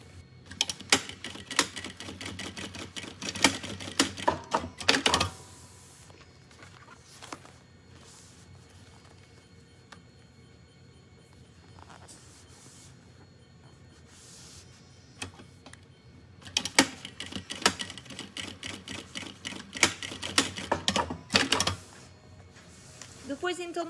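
A sewing machine stitching a school backpack strap along its edge: two loud bursts of rapid, rattling needle stitching separated by a quieter pause with faint handling noise and occasional talk.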